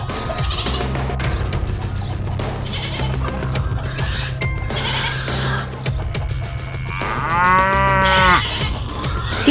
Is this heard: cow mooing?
yes